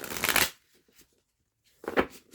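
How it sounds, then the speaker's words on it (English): A deck of tarot cards is shuffled in two quick riffles, one at the start and one near the end, with a faint tapping between and a near-silent gap; no one speaks. "we'll give these a quick 1-2 shuffle"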